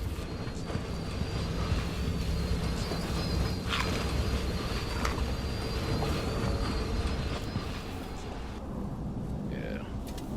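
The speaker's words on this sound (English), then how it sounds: "but that's just the train coming." A train rumbles past in the video game Dishonored 2, a dense, steady roar with faint metallic squeals and clanks riding on top, loud and continuous with no voices.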